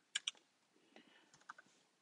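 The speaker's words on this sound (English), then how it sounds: "I'm going to be typing in the domain from the third octet" Keys clatter on a computer keyboard in a short, sparse burst: two sharp taps, then a few lighter, scattered keystrokes, faint and close by.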